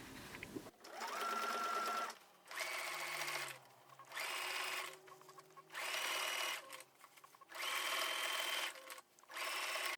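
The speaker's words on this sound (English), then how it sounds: "we will take this over to the machine and stitch this with a 1/4 inch seam allowance from underarm to underarm" A sewing machine stitches a 1/4-inch seam on a denim jacket, running from underarm to underarm. It whirs in about five steady bursts with short pauses between them, close and clear with no talking.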